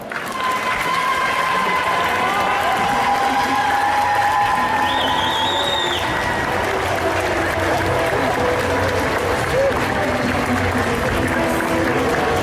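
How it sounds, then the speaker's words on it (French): A festival crowd at an indoor cosplay contest applauds and cheers loudly and continuously, with whistles and shouts rising over the clapping, while voices and music-like tones run underneath throughout. "Je vais vous demander de faire un tonnerre d'applaudissements pour Talia de l'univers fantastique."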